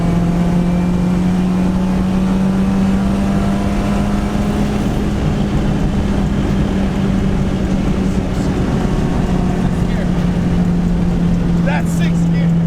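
Sustained hard pull of a turbocharged K20-powered 1996 Honda Civic hatchback at about 500 wheel horsepower, its engine tone holding a loud steady drone in sixth gear from inside the car, with brief faint voices near the end.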